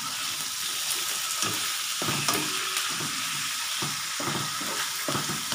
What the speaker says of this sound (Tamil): அதையும் நல்லா வதக்கிடுவோம்